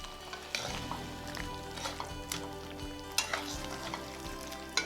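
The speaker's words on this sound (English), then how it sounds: "we're getting ready to stir it" Trini curry chicken cooking on low heat in a covered pot gets stirred, a spoon scraping and knocking against the metal in irregular strokes over a steady low sizzle, close and fairly loud, with no talking.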